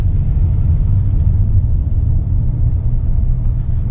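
A 2020 Hyundai Creta with a DCT gearbox accelerates, its engine giving a steady low rumble from inside the cabin that holds nearly constant over several seconds.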